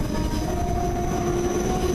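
A Class 465 electric multiple unit passes steadily and close, with a continuous rumbling rail roar and a faint high tonal whine. Gusty wind blows at the trackside and no one speaks.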